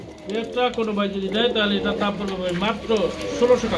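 A white Lakha pigeon at a pigeon market cooing repeatedly and close, mixed in with people talking nearby.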